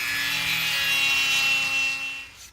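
A hand gouge carves into the wood of a shotgun stock, using only the weight of the tool, giving a steady, close, continuous scraping rasp that fades out at the end.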